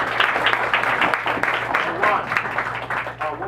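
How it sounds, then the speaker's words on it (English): Students applaud at a school leadership assembly, brisk clapping mixed with crowd voices and cheers over a steady background hum, loud and close throughout. "Clap it up for Luz,"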